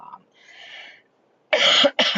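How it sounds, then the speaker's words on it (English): Two sharp coughs close to the microphone, one long and one short, after a moment of faint, muffled sound. "so getting over this darn cough."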